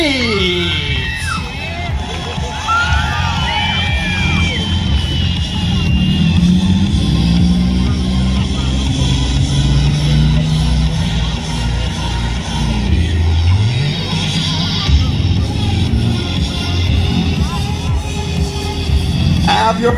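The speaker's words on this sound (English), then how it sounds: "Let's cheer on the stuntman of Sean." A large crowd cheers and whoops in a fair arena during a Record Breaker stunt show at the Florida State Fair, with a dense continuous roar of voices, shouting children and engine noise underneath.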